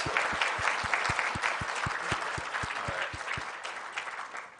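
An audience at a swimming awards banquet applauds steadily for several seconds, a dense, close patter of many hands with some rhythmic clapping running through it, fading slightly toward the end.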